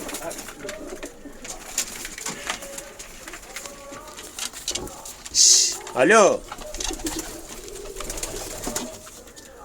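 Pigeons coo and rustle close by, with a brief flutter and a louder call midway, while a person speaks quietly now and then.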